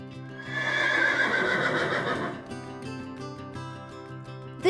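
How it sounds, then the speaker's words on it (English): A horse gives one loud, close whinny that rises and then trails off into shaky, fluttering neighing, followed by a brief snort at the end. "Horse."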